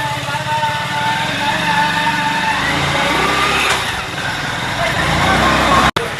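Motorbike ride with a passenger, a loud steady mid-pitched engine drone and wind noise running throughout, overlaid by voices talking, ending with a sharp brief knock or cut.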